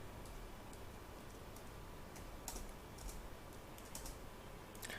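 Quiet, irregular clicks of a computer keyboard as entries are typed into Tally accounting software, with short bursts of keystrokes spread across a soft background hiss.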